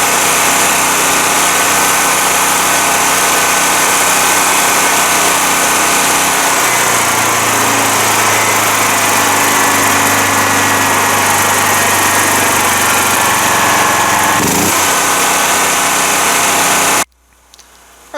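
Dewalt DXGNR7000 7000-watt commercial generator engine idling up close, a loud steady drone that holds for about seventeen seconds and then cuts out abruptly, with no talking over it.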